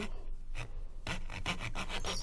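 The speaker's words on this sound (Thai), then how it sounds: "เดี๋ยวเราลองเลื่อยดูนะคะ" A wooden board being cut by hand with a handsaw while making a rocking horse, giving a steady series of rasping push-pull strokes, close and fairly loud, speeding up into quick regular strokes after a short pause.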